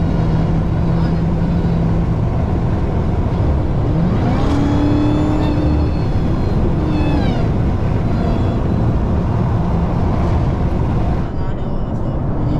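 A Dodge Hellcat engine roars loudly and continuously at close range on a night drive, with rising whine tones from the supercharger as it accelerates, under steady road and cabin noise.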